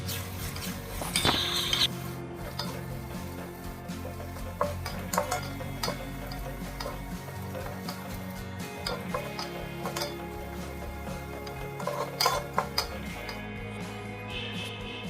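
Seven or eight medium onions fry in oil in a pan for chicken dum biryani, giving a steady quiet sizzle broken by the scrape and clink of a spoon stirring now and then.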